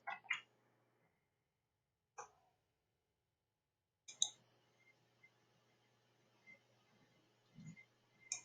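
A computer mouse clicks a few times in a quiet room while emoji extensions are added from the Google web store, giving sharp short clicks spaced apart over a low steady hum.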